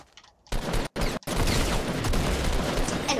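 Sniper rifle gunfire in Fortnite: after a quiet start, loud, dense shooting erupts, with two brief silent gaps, then continues steadily close up to the end.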